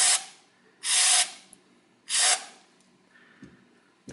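Brake cleaner sprayed onto a Ford Zetec MAF air flow sensor in three close, loud hissing bursts of about half a second each, separated by quiet gaps with faint handling clicks.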